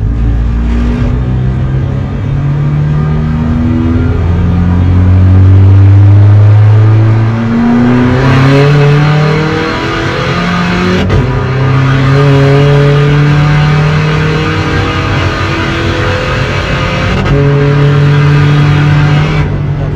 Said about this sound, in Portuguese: Vamos lá ver quantos segundos é que este carro faz dos 100 aos 200.